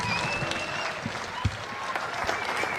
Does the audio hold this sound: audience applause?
yes